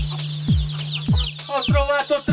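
A hen clucks in repeated bursts, bright and close, about one call every half second. A low falling tone and a steady hum run beneath the calls.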